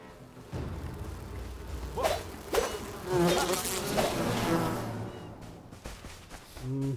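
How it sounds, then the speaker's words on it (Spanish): A swarm of attacking flies in the video game Enshrouded makes a continuous buzzing drone that swells and fades, with a few brief sharp accents in the middle. "Mogollón de moscas que nos atacan."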